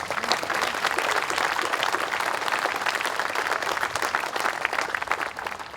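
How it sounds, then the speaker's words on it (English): Sustained applause from a crowd at a Memorial Day service, dense and steady clapping filling the whole stretch without letup. "So let's give them all a round of applause."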